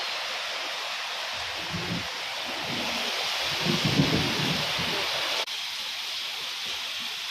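A heavy rainstorm pours down steadily, with low, rumbling thunder rolling in the background for several seconds before a sudden cut.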